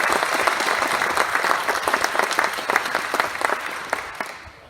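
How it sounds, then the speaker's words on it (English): A crowd at a trucking company celebration for its 3000th truck claps steadily for about four seconds, a dense, even patter that tapers off at the end with no talking. "let's give Tommy a big round of applause."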